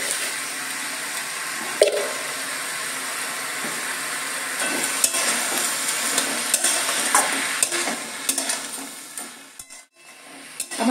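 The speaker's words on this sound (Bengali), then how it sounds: "এবার ভালো করে নেড়ে নিতে হবে।" Drumstick flower vegetable curry stirred in a pan, a steady watery hiss and bubbling broken by scattered scraping clicks of the spoon, close and alone, with a brief near-silent dip near the end.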